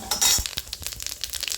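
Dried red chillies and whole cumin seeds hit a little hot oil, giving a brief loud sizzle that settles into light crackling and popping, with faint stirring noises and no voices.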